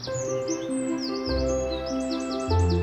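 A chaffinch sings in Conwy Valley woodland, its clear, bright trills and descending chirps repeating over a steady tonal background.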